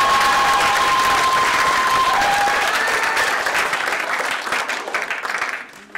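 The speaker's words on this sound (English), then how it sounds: "There really is nothing worse than premature applause." Premature applause from an awards-ceremony crowd, loud dense clapping with some cheering, holding strong before thinning and fading out over the last seconds.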